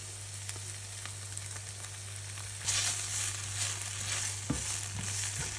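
Garlic and tomato paste frying in a pan, giving a steady close sizzle with a low hum underneath and a few louder crackles and scrapes in the second half.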